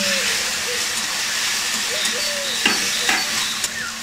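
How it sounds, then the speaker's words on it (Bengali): Spices being stirred into two chopped medium tomatoes frying in a pan for a restaurant-style egg curry, a steady close sizzle with a few scraping stirs and clinks near the end. "দিয়ে দিচ্ছি দুটো মাঝারি সাইজের টমেটো কুচি টমেটোগুলোর সঙ্গে সব মশলাটাকে ভালো করে মিশিয়ে নিচ্ছি"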